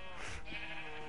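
A sheep in the Minecraft video game bleats once in a wavering, nasal cry, loud and close, over faint game background sound.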